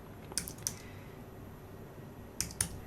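Keys tapped on a computer keyboard during an animation software tutorial, two short pairs of crisp clicks separated by a quiet pause, close and alone.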